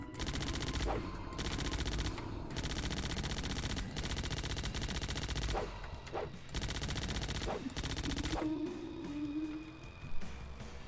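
Sustained rapid video game cannon gunfire rattling continuously in dense bursts with brief gaps, loud and close, with no talking.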